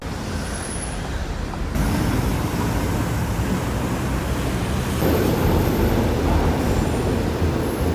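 A metro train ride in Rio: steady loud rumble of the moving carriage with a high whine near the start, the noise stepping up as the train gathers speed, continuous and without talk.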